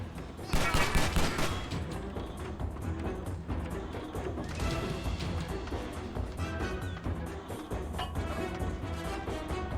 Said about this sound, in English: Shooting at me, and from where?